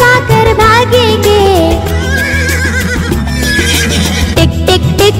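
Horse neighs and whinnies, several rising and falling calls woven into a Hindi children's song with music playing loudly throughout.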